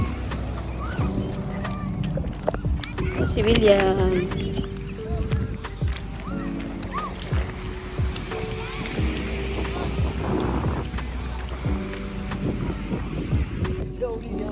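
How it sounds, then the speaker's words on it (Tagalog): Strong seaside wind at a beach in Dingalan, Aurora, roars and buffets the microphone throughout, blending with surf, while people talk over it. "Sobrang hangin dito guys."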